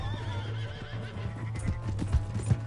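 A horse in the Red Dead Redemption 2 video game whinnies over a steady low hum, with several sharp hoof clops landing near the end.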